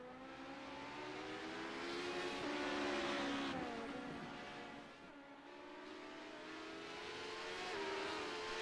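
LMP2 prototype race cars racing at Auto Club, heard faintly from a distance as engines rise and fall in pitch through acceleration and shifts, swelling as cars pass and easing away.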